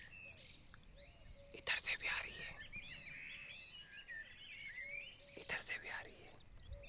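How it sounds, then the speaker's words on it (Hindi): Many birds chirping and tweeting in the desert around a water pool built for animals, overlapping calls from near and far, with soft whispered talk underneath. "कितनी सारी चिड़ियाएं हैं जो कि चहचहा रही है"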